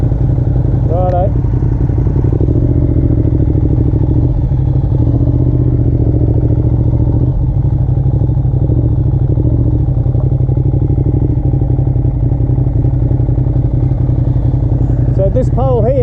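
Ducati Diavel and Triumph Rocket 3R motorcycles accelerating hard from a rolling start, a loud steady engine roar throughout with a rising whine near the end, heard close, as from onboard.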